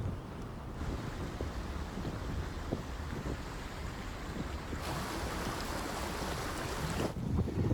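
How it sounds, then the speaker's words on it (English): Steady broadband rush of a waterfall in an open moorland landscape, constant and fairly loud with wind buffeting the microphone, no talking. "So there's the waterfall behind me."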